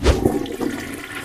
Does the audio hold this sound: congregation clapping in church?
no